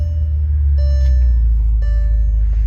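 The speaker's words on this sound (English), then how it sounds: "close that, get that stop beeping" Chime-like warning beeps inside a 2008 Bentley Continental GTC W12, two tonal double beeps about a second apart over a steady low engine idle.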